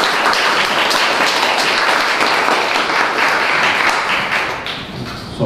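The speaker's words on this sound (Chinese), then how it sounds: "那么现在我们用热烈的掌声来邀请我们作者陈景富老师来为我们致" An audience at a ceramics art exhibition opening reception applauds warmly, a dense, close burst of clapping that holds steady before thinning out near the end.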